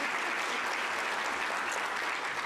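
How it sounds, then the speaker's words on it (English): An audience at a homelessness symposium gives steady, even applause, a continuous wash of many hands clapping at moderate loudness. "she deserves a big round of applause for her achievements"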